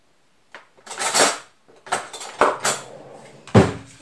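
Metal spoons clink and scrape against dishes and pots in a kitchen while a bigger spoon is picked up, in a few sharp, close clatters separated by short pauses.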